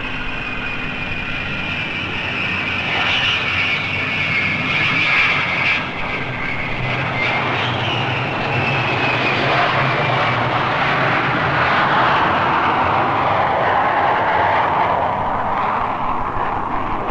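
Avro Vulcan bomber landing: a loud, steady jet roar with a high whine sliding downward, sustained for about seventeen seconds close by and alone, without voices.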